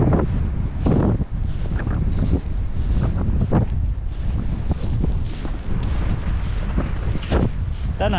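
Strong wind gusting outdoors in a village, buffeting the microphone with a steady low rumble and bursts throughout.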